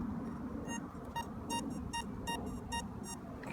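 London Road Searcher metal detector beeping on a target in a field: a series of short, evenly spaced electronic tones over low background rumble, with no talking.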